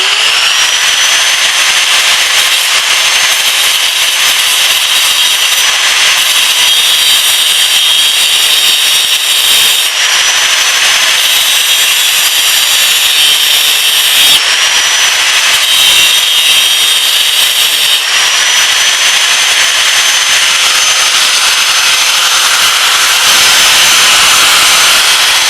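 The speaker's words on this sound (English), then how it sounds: "I already did the horizontal cut across, now I just gotta grind it off." Angle grinder grinding metal off a 1999 Gravely Pro 8 two-speed axle after a cut, a loud continuous high-pitched grinding whine with slight pitch shifts as pressure changes, close and sustained throughout.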